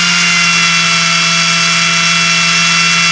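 A KAMOLEE cordless drill-driver runs at constant speed, a loud, steady whirring whine with no change in pitch, heard alone and close.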